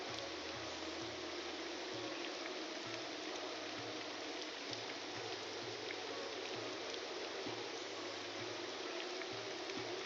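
Rain in the modded video game Morrowind, a constant hiss of falling water with a soft low pulsing underneath, quiet and even throughout with no voices.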